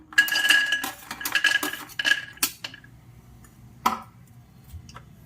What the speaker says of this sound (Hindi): काजू और बादाम को हम भून लेते हैं।